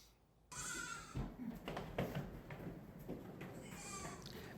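Goats at a farm bleat several times over a few seconds, wavering cries mixed with scuffling and background barnyard noise at moderate distance.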